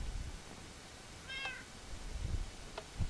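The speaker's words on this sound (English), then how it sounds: "Where did my cat go? Oh, there you are, Crazy Kitty." A single short cat meow from a video game rises clearly over a steady hiss of background noise, followed by a few faint clicks and soft thumps.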